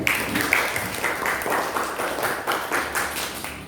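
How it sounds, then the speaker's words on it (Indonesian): Classroom of students applauds after a group presentation, scattered hand claps with audible individual rhythmic beats, moderate and close, lasting a few seconds. "Mari kita berikan tepuk tangan."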